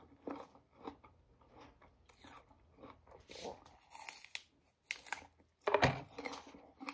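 Someone bites into a tiny apple and chews, with crisp crunches spaced through the stretch and a loud, sharp bite near the end, close and fairly quiet, no talk.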